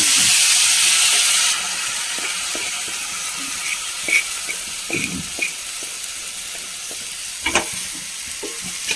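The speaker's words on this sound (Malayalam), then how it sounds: "ഉള്ളിയൊക്കെ നന്നായി മൂത്തിട്ടുണ്ടെങ്കിൽ നമുക്ക് പയർ വേവിച്ച ഇതിലേക്ക് ഇട്ട് കൊടുക്കാം" Cooked green beans tipped into a pan of fried onions, giving a steady soft sizzle with a few stirring scrapes and clinks of a utensil; a brief louder hiss opens, then the frying settles to a quieter, continuous crackle.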